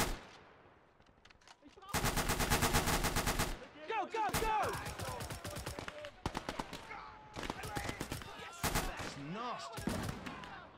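Bursts of automatic machine gun fire in a WWII video game battle, with one long sustained rattling burst followed by shorter volleys amid chirpy game sounds.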